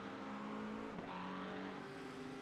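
GT3 race car engines in the iRacing sim game drone steadily with sustained high revs, with a brief shift or engine-note dip in the middle, played at a fairly quiet level with no commentary heard.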